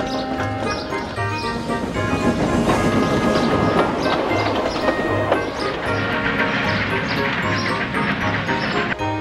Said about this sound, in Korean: 헨리가 소리치자 객차들도 칙칙폭폭 즐겁게 노래했어요.